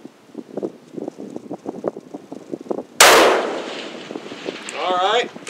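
A single loud, sharp blast from a 7mm PRC rifle fired at a windy long-range outdoor site hits after a stretch of quieter background noise, then rolls off in a long fading tail.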